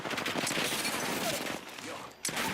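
Rapid gunfire from a video game shooter rattles in a dense, continuous burst, dips briefly, then resumes with a sharp shot near the end.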